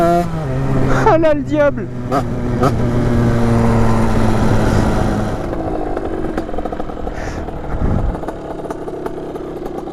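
A Peugeot 86 TPF engine revs at full throttle with sharp popping backfires early on, then settles to a rougher idle, loud and near, while a voice speaks over it.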